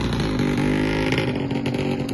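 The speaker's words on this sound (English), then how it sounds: "there's a motorbike behind me." A motorbike engine drones loudly close by, a steady mid-pitched buzz with harmonic whine that holds through the short stretch without voices.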